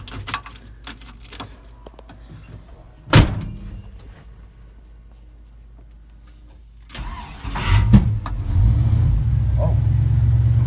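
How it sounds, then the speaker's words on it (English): A car fitted with a Sniper fuel injection system is hot-started. A sharp pop sounds early on, then the engine cranks and catches with another backfire pop, and it settles into a steady idle. "Oh, what was that? Popping backfire."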